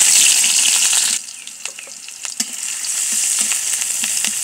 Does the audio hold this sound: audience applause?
no